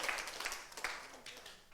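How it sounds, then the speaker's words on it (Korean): Brief, faint audience applause at a church summer retreat: a soft wash of clapping that fades away within a couple of seconds. "박수 한번 쳐줘요."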